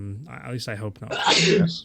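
A speaking voice is followed by a sharp, breathy sneeze that bursts out loudly at the end.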